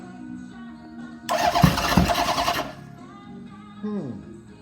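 A Honda CB750 motorcycle engine, choked and running rich with no throttle, coughs into life with a loud, rough burst lasting about a second and a half. It then dies back to quiet, with a brief mechanical whine near the end.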